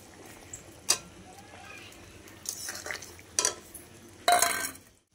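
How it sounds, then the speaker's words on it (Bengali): Small mourala fish go into a simmering bitter gourd and potato curry and are stirred, with a few sharp ladle-and-pot clanks and a longer scraping stir near the end over a quiet simmer. "এবার আমি মাছটা দিয়ে দিচ্ছি"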